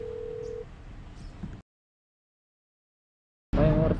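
A telephone is dialed to cancel a booking, with a steady tone at first followed by a low hum, then silence for about two seconds before a louder burst of line sound and tones returns.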